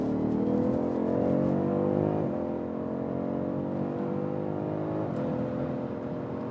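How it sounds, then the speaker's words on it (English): A BMW already at speed on the Autobahn accelerates hard from about 80 to nearly 190 km/h, a loud, steady engine drone with rising pitch and brief dips at two gear changes. "One more acceleration when we are already at speed."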